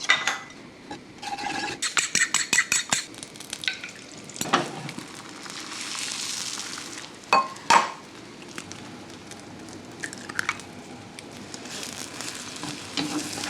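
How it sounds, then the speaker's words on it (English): Beaten eggs frying in tallow in a pan, a steady close sizzle with scraping and rubbing of a utensil against the pan and a few sharp clanks, no talking. "I'm going to start by cooking 2 eggs just into a round shape."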